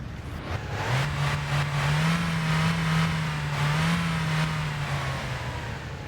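A car engine in the video game My Winter Car runs steadily, a close low drone that rises slightly as the revs pick up, then holds an even, slightly wavering hum.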